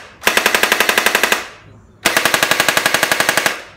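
JM SCAR V2 gel blaster firing on full auto, two close, loud bursts of rapid, evenly spaced mechanical shots, each lasting just over a second with a short pause between.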